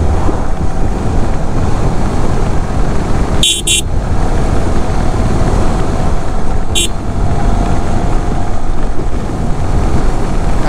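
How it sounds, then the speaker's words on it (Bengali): Strong wind buffets the microphone beside a river where sampan boats rock on the current, a continuous loud roar with a few sharp knocks partway through. "অনেক বাতাস এখানে"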